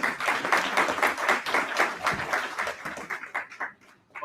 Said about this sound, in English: very big round of applause for Tapas Adhikari